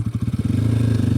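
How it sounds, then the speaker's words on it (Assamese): A motorcycle engine catches with a few quick pulsing turns, then settles straight into a loud, close, even idle. "বাইকখন ষ্টাৰ্ট কৰি ল'লোঁ"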